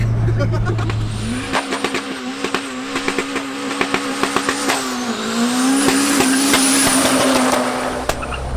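A turbocharged B16-powered Triumph Acclaim accelerates hard from inside the car, its engine note rising steadily through the revs with a brief dip at a gear change, loud and close, with turbo whine and clicks over the roar.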